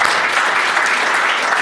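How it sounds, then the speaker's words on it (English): An audience applauds a panel at an in-person event, a dense steady wash of clapping hands that stays loud throughout the short stretch. "give a big round of applause for the panel"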